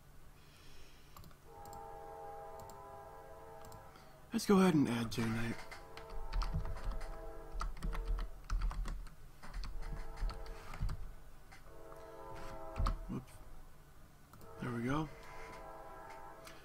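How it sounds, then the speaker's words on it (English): A train passes in the background, its long tonal horn sounding on and off for most of the stretch, under a person speaking close up and the clatter of computer keyboard typing. "Sorry for the train in the background"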